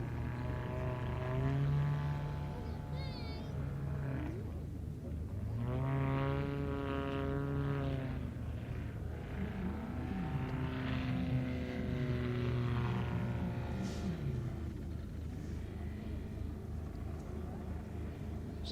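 A four-seat propeller aircraft flies manoeuvres at an airshow at RAF Mildenhall, its engine note rising and falling in pitch as it passes and turns, steady and moderately loud over a low constant background hum.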